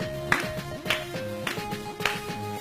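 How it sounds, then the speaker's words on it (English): Hands clap in a steady beat, roughly every half second, during an upbeat fitness dance workout, the sharp claps sitting over loud, bouncy music. "Let's clap it up."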